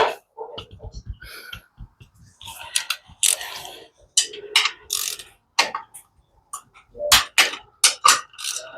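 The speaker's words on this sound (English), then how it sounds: "the ratchet with a torque wrench" A ratchet on a torque wrench clicks up close during a BMW 333i engine build, giving short bursts of sharp metallic ticks between pauses and other handling noises.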